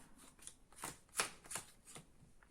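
Trading cards drawn from a deck, five crisp sliding and snapping strokes in a steady rhythm, close and quiet.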